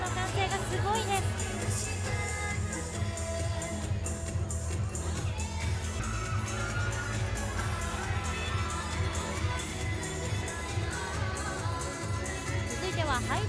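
Audience cheering and shouting at a fashion show for a shopping mall's 35th anniversary party in Shibuya, with models in retro schoolgirl outfits; a dense, continuous crowd roar with music underneath throughout.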